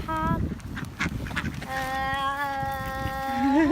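Ducks quack and a goose honks loudly nearby while being fed, with overlapping calls and a long, drawn-out honk rising at the end.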